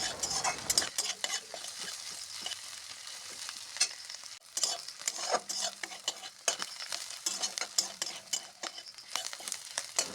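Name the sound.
onion, garlic and green chilli frying in dried-fish oil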